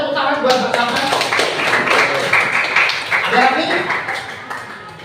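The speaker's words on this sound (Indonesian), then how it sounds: "Tepuk tangan buat bersama." A group in a classroom applauds together, with dense overlapping claps lasting several seconds and voices mixed in.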